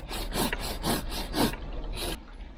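A tapered, thin-bladed Japanese handsaw cuts through wood in a steady rhythm of six close, rasping strokes, each pull a bright scraping burst, then a brief pause and one final stroke, heard up close with no voices.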